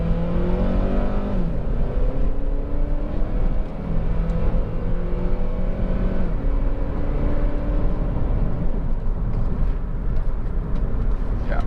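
A 2006 Honda Accord 2.0 i-VTEC EX four-door saloon pulls hard under full throttle on a pitted road, the engine note rising steadily through the gears with brief dips at each shift, a continuous close drone with road rumble beneath and no talk.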